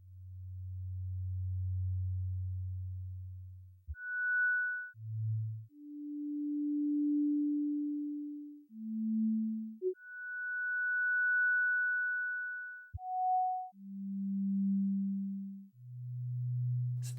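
Pure synthesized sine tones from Sonic Pi play one at a time at different pitches, separated by gaps of irregular, randomly chosen length, clean and alone.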